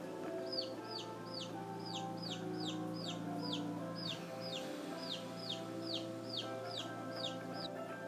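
Chickens cluck in a steady, evenly spaced series of short high calls, moderately distant, over a constant low background hum.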